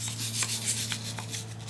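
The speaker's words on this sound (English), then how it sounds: "clean this out and scrub it in with wire brushes" Wire brushes scrub dirt and grime from the engine bay of a BMW E46, giving repeated rasping strokes in a steady back-and-forth rhythm over a low constant hum, close and continuous.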